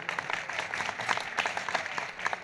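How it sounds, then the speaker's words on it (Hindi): An audience claps at a bhajan jugalbandi devotional music event, a steady, moderately faint patter of many hands that lasts the whole stretch. "उनके लिए जोरदार तालियां।"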